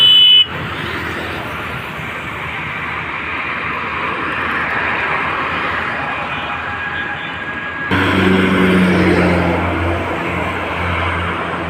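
Busy traffic on the Mastol 300 Feet road roars continuously nearby. Tonal horn toots cut through, and the rumble grows louder near the end.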